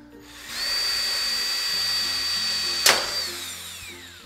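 A power drill bores into a PC case with a steady, loud high whine held for a few seconds, then a sharp crackling burst as the bit breaks through before the motor winds down.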